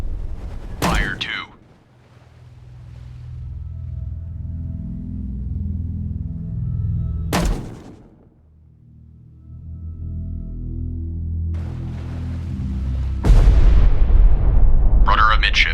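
Depth charges are fired and explode in the naval game Destroyer: The U-Boat Hunter, with several sharp loud blasts followed by long deep rumbles. A heavy roar builds at the end.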